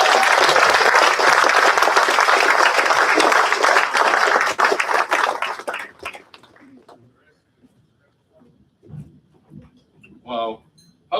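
A banquet audience at a Hawaii firefighter and police officer of the year awards applauds the honorees, loud sustained clapping for about six seconds that cuts off, followed by quiet room noise and a few spoken words.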